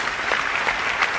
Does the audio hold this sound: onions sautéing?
no